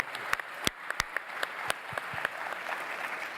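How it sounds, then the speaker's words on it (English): An audience applauds warmly at a talk on skills and education, a steady wash of clapping with several sharp, loud individual claps standing out near the front. "warm round of applause, please"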